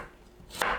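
A knife slicing kabocha squash into thin 0.3 to 0.4 cm pieces on a cutting board, heard as a single crisp cut near the end after near silence.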